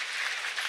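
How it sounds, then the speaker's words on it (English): Audience applause at the Hackaday Supercon 2022 badge hacking awards ceremony, a dense steady wash of clapping from a crowd, brief and even throughout. "Can we get a round of applause for our production team, the Hackaday team,"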